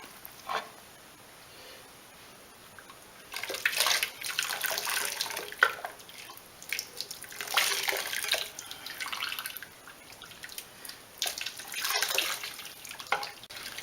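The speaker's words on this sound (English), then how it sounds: "Now we're going to scald the duck with hot water." Hot water pours and splashes over a duck in uneven bursts, running then easing off, close by with no talking.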